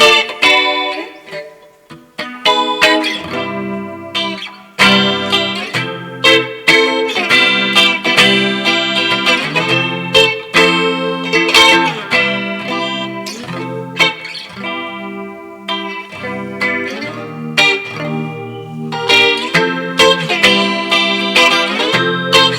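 An Epiphone Riviera electric guitar on its middle pickup position, played through an amp with effects and light distortion, ringing chords and riffs with short pauses between phrases, loud and close with no talking.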